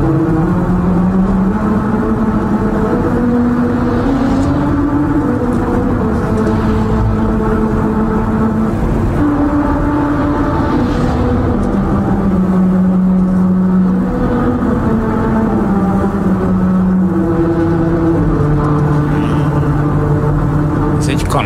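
Car driving over a melody road in Hungary, its tires sounding a simple children's-song tune as a sequence of sustained tonal notes over steady road rumble, with people talking throughout.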